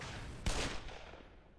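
A single sharp gunshot cracks out in the video game Black Mesa against a constant background rumble, then decays over about a second.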